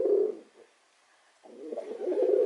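A courting pigeon gives two soft, close coos, one at the start and a longer one near the end, with a quiet pause between them.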